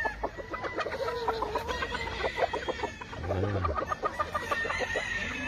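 Gamefowl roosters on a big farm in the Philippines crow and cluck repeatedly, several birds calling over one another at moderate distance, with overlapping clucks and a longer crow standing out.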